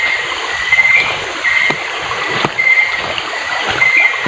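Water flowing at a spillway, a continuous close rushing and gurgling with irregular splashy pulses, heard alone without voices.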